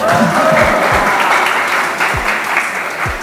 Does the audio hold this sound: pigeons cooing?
no